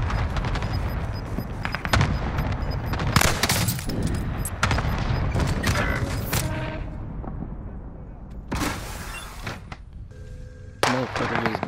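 Video game gunfire: rapid bursts of shots and booming blasts, loud and dense, with short gaps and scattered single reports, while voices talk over parts of the action.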